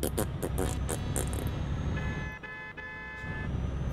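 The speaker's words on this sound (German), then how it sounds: "Meine Hupe ist die beste." A truck horn honks in Euro Truck Simulator 2 during a multiplayer convoy, a loud sustained toot over steady in-game engine and road noise, with some short blasts before it.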